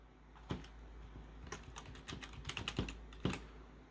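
A password is typed on a computer keyboard while a Raspberry Pi is being set up, with soft, sparse keystrokes clicking at an uneven pace in a quiet room.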